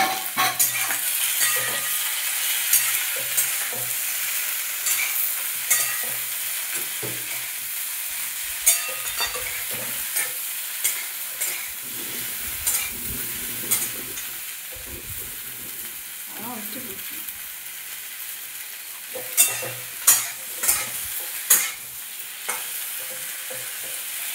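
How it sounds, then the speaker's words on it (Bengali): Chopped okra frying in a pan for a Bengali dherosh chorchori: a constant close sizzle with repeated spoon scrapes and occasional clinks against the pan as it is stirred, over about twenty seconds with no talk. "ভাজা ভাজা হয়ে গেছে। এতে কেটে রাখা ঢ্যাঁড়স, অনেকে ভেন্ডি বলে, অনেকে পোকড়া বলে, এটা দিয়ে দেবো।"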